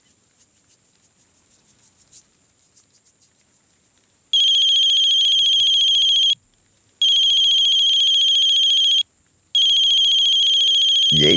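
A phone ringtone sounds for an incoming call, starting with a soft rapid chirping pattern and then switching to loud, sustained electronic tones in three long bursts separated by short pauses.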